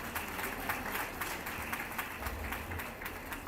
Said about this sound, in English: So big clap for observers also.